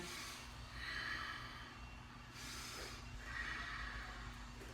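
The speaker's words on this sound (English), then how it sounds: "Nice, slow, deep breaths." Slow, deep breaths during a warm-up routine, two long airy inhale-exhale swells, close and fairly quiet over a low steady background hum.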